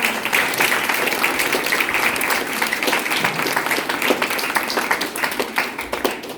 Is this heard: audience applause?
yes